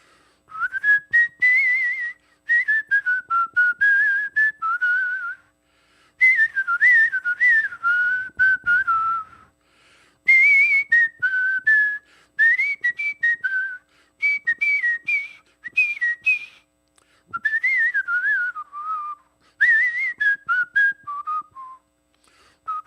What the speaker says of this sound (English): I want you to whistle that melody